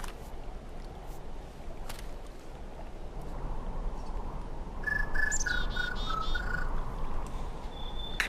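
Calls of the Merula Alba bird in the adventure game Syberia 2, a few bright whistled chirps rising above a dense nighttime backdrop of insect and frog-like chirring, with no talk.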